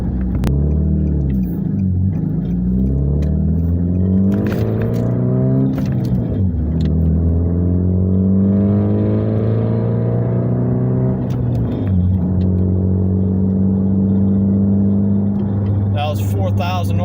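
A manual Nissan Altima with a straight pipe exhaust and a slightly rattly flex pipe revs repeatedly up to about 4,000 RPM, its loud, deep exhaust note rising and falling in several pulls close by.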